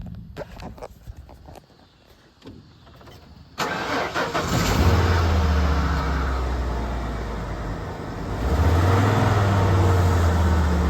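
A 1996 Ford F-150 with a 4.9 inline-six and 159,000 miles cranks after a few clicks and shuffling, then catches and settles into a loud, close, steady idle with a low throbbing hum.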